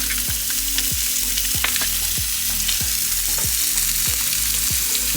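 Pure Irish butter melting over a steak in a hot pan: a loud, continuous close-up sizzle, broken by regular rhythmic scraping beats about every half second, with no talking.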